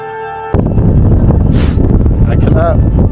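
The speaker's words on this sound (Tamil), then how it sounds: "நல்லா காற்று அடிக்குது, சில்லுன்னு அடிக்குது" Strong, cold wind roars across the microphone on the summit of Mount Pulag, loud and steady after a sudden start, with a voice speaking over it.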